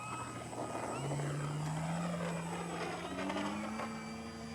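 FMS 1400mm Pitts v2 RC model biplane taking off, its electric motor a steady rising whine with the pitch climbing as it speeds up, fairly faint and distant, no talk.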